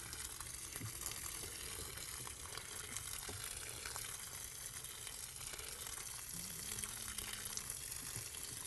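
About a gallon of water pours onto newly planted lima beans in a garden self-watering container, a faint, continuous splashing trickle with no talk.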